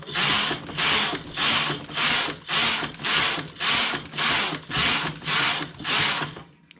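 A knitting machine carriage sweeping across the needle bed to knit rows, about ten even, regular rasping passes in a steady back-and-forth rhythm, close and alone.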